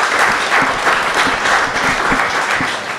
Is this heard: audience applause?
yes